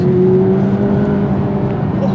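A McLaren 540C's turbocharged V8 accelerating hard in second gear, a loud, steady engine drone with a rising whir that carries through the whole stretch, close and without talk.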